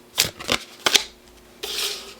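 Tarot cards shuffled by hand in a few quick riffling bursts, then a longer softer sliding shuffle, close and alone with no talking.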